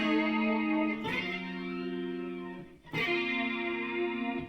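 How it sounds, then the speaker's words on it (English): Sustained chords from a Parker Fly electric guitar through a Roland GR-55 Leslie rotary speaker patch swirl and warble, two strums several seconds apart, each ringing out with a wobbling shimmer. "I have set up a like a Leslie sound"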